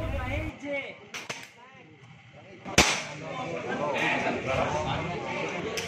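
Shots ring out at a regional shooting competition run by Perbaksi in Cirebon: a couple of sharp cracks, one loud and near, over a voice talking and general outdoor noise.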